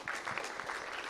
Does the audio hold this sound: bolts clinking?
no